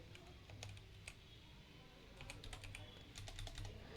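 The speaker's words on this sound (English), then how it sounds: "Why am I even typing?" Quick clicking keystrokes on a computer keyboard, close and fairly quiet, in irregular bursts over a steady low background hum.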